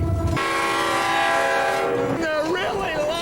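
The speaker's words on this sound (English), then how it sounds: "Trains are noisy." A New Hampshire Northcoast train pulls into a station, its horn blaring loud and close in one sustained chord before the tone bends and wavers as it fades, with rumbling rail noise underneath.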